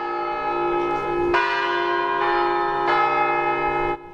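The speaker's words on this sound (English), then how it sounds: "the pilgrims were greeted with the peal of bells at the main gate by Metropolitan JONAH" Church bells pealing at the main gate of a monastery to greet Memorial Day pilgrims, loud and ringing with repeated overlapping strikes that sustain and blend, alone without voices.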